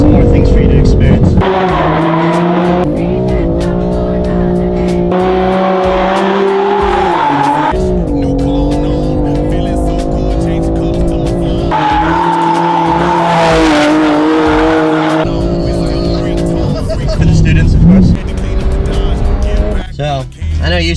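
A Toyota Camry drifts on a city street with reverse entries, tires squealing loudly in repeated long screeches as the engine revs rise and fall between slides, close and intense, with voices heard among the noise.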